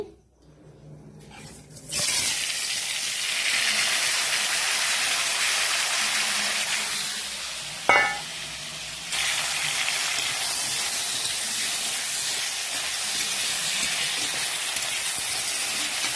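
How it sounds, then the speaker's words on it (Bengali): Turmeric- and salt-coated potatoes sizzle in leftover hot oil after fried fish, a loud steady hiss that jumps up as they hit the pan, with a brief sharp crackle midway. "ওই নুন হলুদ মাখানো আলুটা ভেজে নিচ্ছি।"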